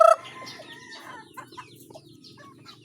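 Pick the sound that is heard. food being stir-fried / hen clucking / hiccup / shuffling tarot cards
hen clucking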